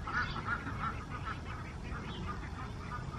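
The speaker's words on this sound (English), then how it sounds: "let's go and let the ducks out" Duck quacks sound a few times early on, close by, as the ducks are let out, over a steady rumbling background with scattered faint calls after.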